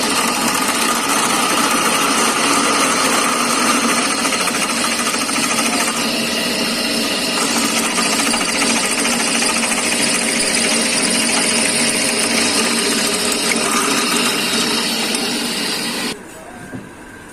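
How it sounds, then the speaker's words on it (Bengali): A drill bores out the spark plug socket in the cylinder head of a CT100 motorcycle, a loud continuous grinding whir that runs steadily for about sixteen seconds before cutting off abruptly. "এটাকে ডিল করা হলো"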